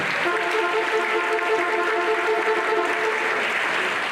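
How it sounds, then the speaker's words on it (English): An audience at a university inaugural lecture applauds steadily, a dense wash of clapping in a hall with a faint tonal hum running underneath. "Please clap for Univen"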